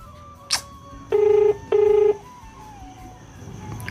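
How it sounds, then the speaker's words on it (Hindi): Outgoing phone call to a driver: two clear ringback tones sound over faint room noise, preceded by a brief click. "अभी फिर से कॉल कर रहा हूँ दोस्तों"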